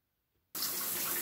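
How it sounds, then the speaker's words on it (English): Water bursts into steady, loud running when the main supply is reopened on a home heating system with an oil furnace and circulation pump. A sudden hissing rush follows a near-silent start. "I'm going to open the main water."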